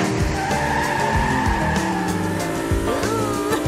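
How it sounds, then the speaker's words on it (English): A speedy green cartoon toy racing car roars off in a kids' animated story, engine revving loudly with tire squeals and skidding swoops throughout, close and continuous with no talking. "Kitty's off and ready to race. In his speedy green racing car."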